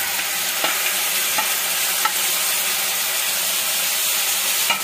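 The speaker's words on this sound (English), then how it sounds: "The oil is heated now, so we will add the ingredients." Chopped ingredients frying in heated oil for paneer butter masala, a loud, continuous bright sizzle and hiss with a few faint clicks of stirring, close by and without talk.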